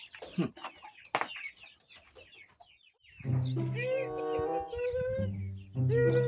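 A chicken clucking close by, several short throaty calls and a drawn-out cackling phrase, with brief rustling and handling noises at the start.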